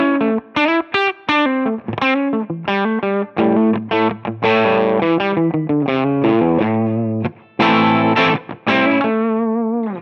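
Electric guitar played through a Tonex pedal on a bright setting with drive, a lively melodic run of clipped, biting distorted notes and chords with quick pauses, loud and alone.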